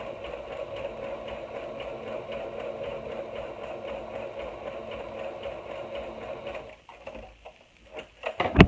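A sewing machine runs steadily while stitching knit binding onto fabric, a continuous mechanical whir for most of the clip that stops near the end and gives way to a few brief handling knocks.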